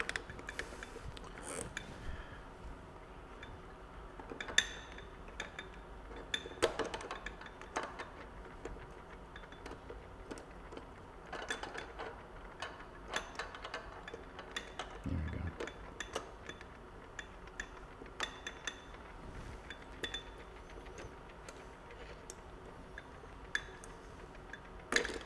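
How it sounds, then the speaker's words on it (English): Metal lab clamps being fitted and tightened onto fractional distillation glassware, giving scattered close, irregular clicks, ticks and light clinks over a steady low background. "I'm having a hard time getting this third clamp on here."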